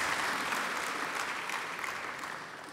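A lecture audience applauds together, a short burst of steady, even clapping from a seated crowd that eases off slightly toward the end.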